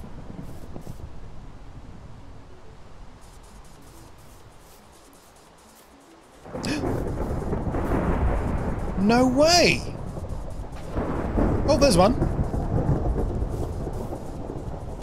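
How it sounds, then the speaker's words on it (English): Minecraft thunderstorm on Nintendo Switch, with a steady hiss of rain and then a loud, deep rumble of thunder rolling in partway through, while a player talks and exclaims excitedly over the storm. "This is like the third or fourth thunderstorm we've had, but I still haven't seen a lightning strike."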